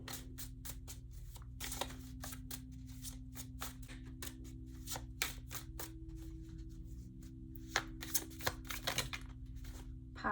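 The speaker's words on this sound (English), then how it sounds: "Let's try some oracle cards." Oracle cards being shuffled by hand during a tarot reading, a soft, close series of rapid riffling snaps and flicks over a low steady hum.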